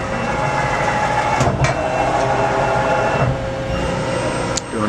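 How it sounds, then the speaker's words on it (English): Z-axis ball screw drive on a Mori Seiki SL-3A CNC lathe moving, a steady close machine whir and hum with a couple of brief higher clicks, no talking. "We'll bring Z in a little bit here so you can hear that screw."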